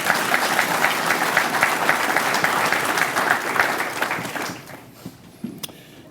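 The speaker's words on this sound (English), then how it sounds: "Can y'all clap it up for them for a second?" Applause from an audience at a Hall of Fame presentation, a dense steady clatter of many hands that fades out near the end, leaving a few scattered claps.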